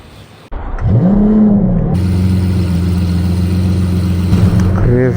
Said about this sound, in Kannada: ಕ್ರೇಜಿ ಲೌಡ್ ಅಂತ ಕಾರು.